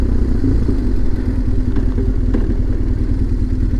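A motorcycle engine hums steadily at close range during a ride, a continuous low drone with faint clatter and no speech.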